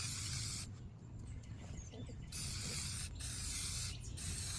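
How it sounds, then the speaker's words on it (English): An aerosol can sprays rust treatment onto small metal hardware in bursts of close, steady hissing, with short pauses between sprays and no talking. "I'll spray that stuff on them and to see if they need to be sprayed down"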